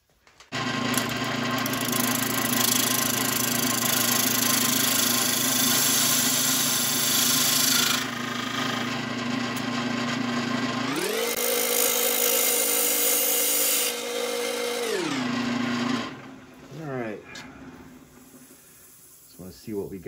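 A power tool whines loudly and steadily as it shaves and squares a wooden urn, its pitch rising for a few seconds midway, then winding down and stopping near the end.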